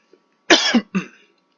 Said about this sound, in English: for some reason I tend to cough every time I do these videos